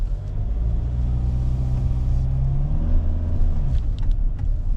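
A used Kia Carnival minivan rolls down the road with a steady low engine rumble and tyre drone, the engine tone rising slightly as it pulls, heard from inside the cabin with no talking.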